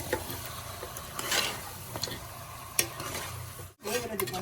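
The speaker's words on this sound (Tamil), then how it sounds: "எண்ணெயிலே கொஞ்சம் நல்லா சிக்கன் வதங்கணும்." Chicken sautéing in oil in a pan for a village-style roasted-masala chicken curry, a steady close sizzle and stir with brief scrapes and a sharp clink, no talk.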